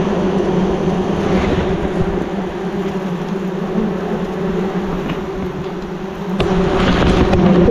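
A swarm of bees drones loudly around a giant wild beehive made of many separate combs, with a close, continuous buzz that swells slightly toward the end.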